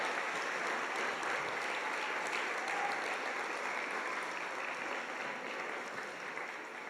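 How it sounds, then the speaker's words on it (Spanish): Steady applause from a congregation at a church service, continuous and fairly even for several seconds, moderately distant with a slight fade toward the end. "Vamos a hacer un aplauso a todos"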